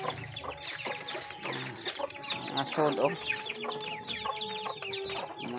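Pet chickens at their afternoon feeding, with hens clucking and fowl calling steadily and close by in a busy, continuous flock chatter, while a person speaks briefly.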